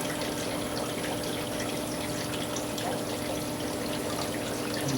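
Water pours and trickles off bagged banjo catfish in a tropical fish shipment, a steady, soft, continuous splashing heard close by with no talking.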